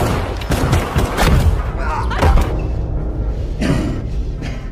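Rapid bursts of gunfire in an action film crack and boom in quick succession, loud and close, with a dense rumbling background between the shots.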